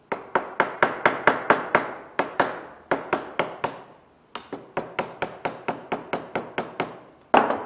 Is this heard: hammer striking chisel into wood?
yes